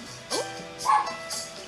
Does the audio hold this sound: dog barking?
yes